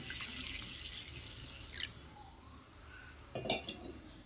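Water poured into a bowl of washed grains left to soak, heard as quiet trickling and faint drips with a couple of brief splashes, close by and with no voices.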